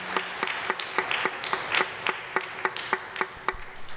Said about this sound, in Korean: 우리 하나님께 영광의 박수 올립니다.